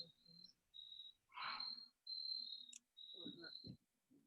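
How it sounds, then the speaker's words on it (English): Crickets chirping in repeated short trills, fairly faint, with a few soft rustles and bumps between them and no speech. "Crickets are in agreement."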